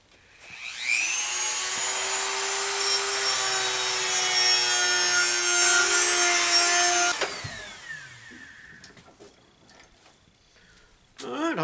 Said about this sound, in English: I just chose one of the sanding rolls